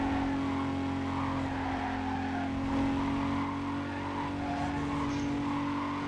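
Race car engine drone from a Need for Speed racing game, steady and loud throughout, with tire skidding and squeal mixed into the continuous roar; no talking.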